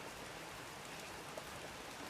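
Steady rain striking a hotel room window at night, a dense even patter and hiss that holds at one level throughout with no voices.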